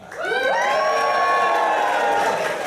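A live audience at a musical show in Fuquay Varina, North Carolina, cheering and whooping loudly as a dense, sustained crowd roar with high-pitched shouts, filling the room without a break.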